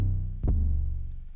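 In a hyperpop and glitchcore beat production, high-pitched 808 bass notes give a deep, booming low tone, then a second punchy hit about halfway through that rings out, with faint ticks near the end.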